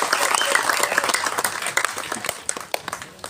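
An audience at a film event for Siva Sambo bursts into brisk applause for a birthday honoree, the clapping dense at first and then thinning into scattered claps.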